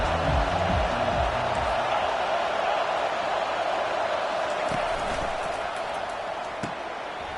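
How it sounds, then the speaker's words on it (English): A stadium crowd at a college football game roars loudly and steadily for the visiting team, a thick wash of cheering that eases slightly toward the end. "This crowd bringing an ear-splitting welcome to their visitors"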